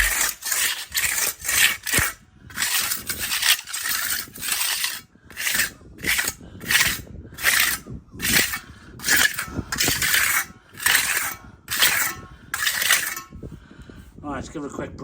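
Dried cement grout being roughed up by hand, a quick series of rasping scrape strokes in a steady back-and-forth rhythm, close and fairly loud, with short pauses between strokes.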